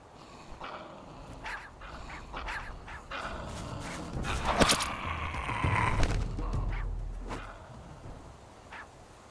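A dog barks and whimpers repeatedly amid a dense, busy background of mechanical noise in the game Survival: Fountain of Youth, with the loudest bursts in the middle.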